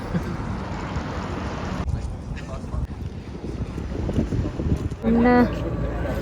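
A boat crossing open water in Stockholm, with a steady rumble of engine and wind noise over the ride, a voice talking over it, and a brief tonal horn-like sound near the end.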